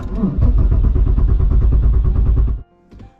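A VW MK3 VR6 engine cranking over and catching on its first start in five months, a loud close rumbling churn that runs about two and a half seconds before dropping to a faint idle murmur.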